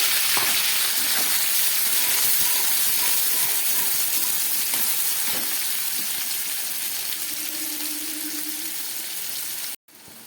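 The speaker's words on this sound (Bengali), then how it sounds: "ক্যাপসিকাম আর টমেটোটা ভাজা হয়ে গেছে, এবার দিয়ে দিচ্ছি কেটে রাখা দুটো পেঁয়াজ।" Sliced onions hit a hot pan of already-fried capsicum and tomato and sizzle with a steady, close, loud hiss that carries on throughout, then cuts out abruptly just before the end.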